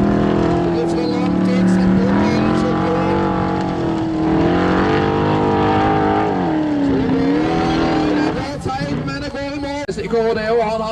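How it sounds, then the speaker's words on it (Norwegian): An off-road race car with a turbocharged Chevrolet Corvette V8 roars at an off-road track in Mysen, Norway, its engine revving and changing pitch, under continuous Norwegian commentary. "Kjører altså V8-motor, hentet fra en Chevrolet Corvette med en turbo for lastebil."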